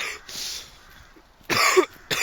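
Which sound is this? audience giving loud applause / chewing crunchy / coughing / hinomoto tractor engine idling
coughing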